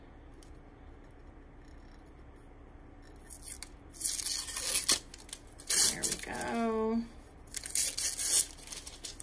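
Sublimation paper tearing and peeling off a pint glass wrapped in shrink wrap, several crisp ripping bursts close up, with a brief spoken remark mixed in.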